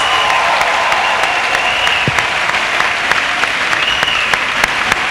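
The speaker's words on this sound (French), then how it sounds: "Acclamons pour Jésus-Christ" A church congregation claps steadily in sustained, dense applause that fills the room at a loud, even level for several seconds, with faint voices mixed into it.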